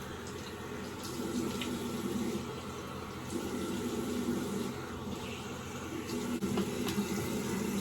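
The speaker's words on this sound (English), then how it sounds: "Now, I'm going to rinse my face." A bathroom tap runs steadily while a face is rinsed, a constant close rush of water with small splashes breaking up the flow, and no one speaks.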